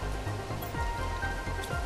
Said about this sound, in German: der Regen ist wirklich sehr laut